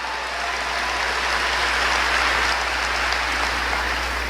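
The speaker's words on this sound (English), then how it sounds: "You can clap for Danny." Audience at a United Nations speech breaks into steady, dense applause that fills the whole moment, loud and continuous with no voices over it.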